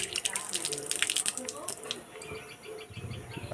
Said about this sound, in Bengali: এখন হাত মুখ ধুচ্ছি